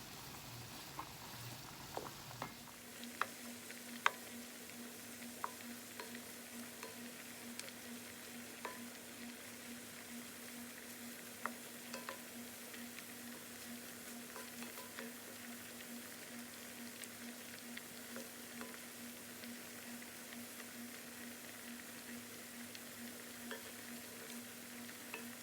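Shrimp and mushrooms sizzle steadily in a pan for shrimp scampi, a continuous close frying crackle with small pops and a low steady hum, no talking.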